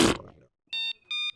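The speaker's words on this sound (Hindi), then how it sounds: "इतनी जोरों से खर्राटे ले रहा है" Loud comic snoring: a rough, roaring snort followed by two short, high whistling exhales, with no talking.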